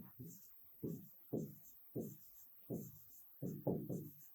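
Chalk or marker writing during a grade six science lesson, a series of short rhythmic scraping strokes, close and quiet.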